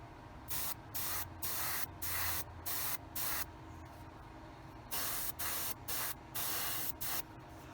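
An Iwata HPM2 airbrush spraying Stynylrez primer onto a Tamiya 2½-ton 6x6 cargo truck model gives a series of short hissing bursts, about a dozen quick pulses of close, steady spray separated by brief pauses, with no talking.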